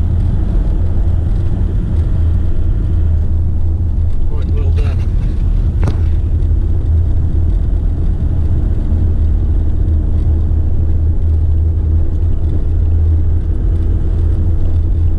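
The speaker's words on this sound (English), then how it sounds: "Bit of a bumpy road on the way in." A car drives along a bumpy road on an Australian country trip, giving a loud continuous low rumble of engine and tyres with a few brief jolts and rattles from the uneven surface.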